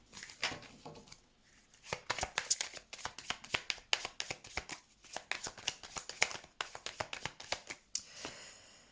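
Tarot cards are shuffled by hand before a reading, giving quick, irregular bursts of soft riffling and flicking close up, with short pauses between.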